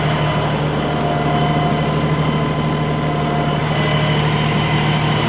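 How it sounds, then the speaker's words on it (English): A 35 horsepower LS tractor engine labors steadily while lifting an overfilled IBC tote, a continuous, droning hum at constant loudness with no talk over it. "it always surprises me just how powerful this 35 horsepower tractor is"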